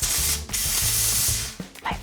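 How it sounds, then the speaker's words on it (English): An espresso machine's group head purges with a loud hissing spray and rattling mechanical bursts in a steady pulsing rhythm, then a brief clatter, with no talking. "Then purge the machine."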